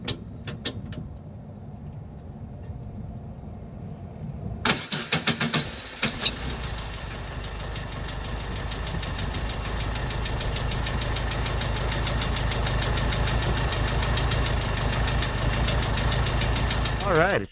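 A 1969 Volkswagen Beetle with a 4-speed manual, restored, cranks with a few quick bursts and catches, then settles into a steady, slightly rising idle that runs on loud and close.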